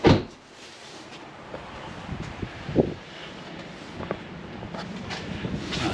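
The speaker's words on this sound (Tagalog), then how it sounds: "papalakas na yung hangin" Gusty, strengthening wind in cold Canadian weather buffets the microphone outdoors, rumbling in uneven bursts with occasional knocks and rustles, moderately loud and close.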